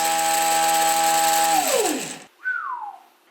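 A homemade brushless motor built from LEGO whines steadily at full power, then spins down with a falling pitch, cuts out, and gives one more short whine that also drops in pitch.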